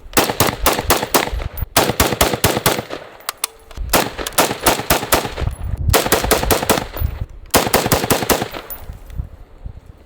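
Bullpup rifles (AUG, FS2000, Tavor, MDRX, Hellion) firing outdoors in wind, loud sharp shots in quick rapid bursts of about five rounds each, separated by short pauses, with no voices.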